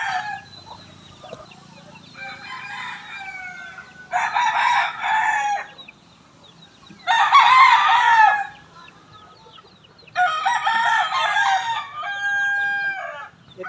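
Bulik breed chickens about seven months old, with a rooster crowing loud and close in three long separate calls, plus softer clucks between them.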